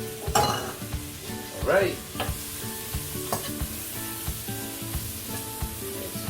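Garlic fries in a pan for creamy chicken marsala, giving a steady close sizzle broken by scraping stirs and light clinks of a utensil against the pan, with a brief spoken word early on.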